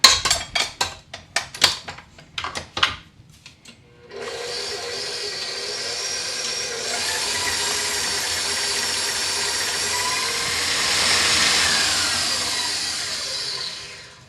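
Stand mixer beating gluten-free black cat cookie dough in its bowl, a steady whirring drone that starts abruptly after a few knocks and clinks of ingredients, then runs continuously at moderate loudness with a slight swell near the end.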